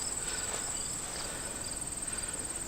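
Crickets and other insects on a hillside pipeline clearing in Pennsylvania, a continuous high shrill trill with steady pulsing and no voices.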